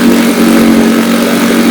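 A restored 1962 Johnson 3 HP outboard motor runs steadily at high speed, a loud, close, even buzzing drone with a strong steady pitch throughout and no talking.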